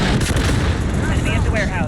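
Grenade blast in a multiplayer first-person shooter, a loud, dense burst of booming roar that fills the whole moment, with a voice talking over it.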